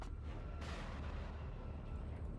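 Distant rumbling gunfire and artillery booms from units in the WARNO strategy game roll on continuously, with a sharper burst near the start and no talk over it.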